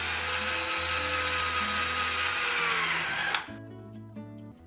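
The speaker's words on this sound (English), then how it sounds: "And then just go ahead and drill." A drill with a 1/4-inch bit bores into a plastic drain pipe, whirring steadily and loudly for a few seconds before winding down, followed by faint clicks and knocks.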